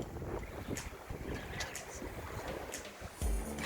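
Wind and water sounds aboard a First 22 sailboat on the ocean, with rushing wind buffeting the microphone and a wash of waves against the hull, steady and close, with a sharper thump near the end.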